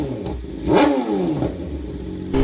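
A BMW S1000RR with Akrapovic titanium headers and a GP Shorty exhaust revs up and down in quick, loud, close bursts.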